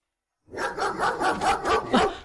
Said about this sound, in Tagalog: Nagdadakal nga aso ti umay dito yan ko.